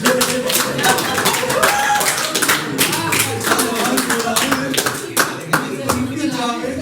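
An audience at a Hindi comedy show claps hard and fast in a loud, rhythmic burst of many hands, with voices mixed into the clapping.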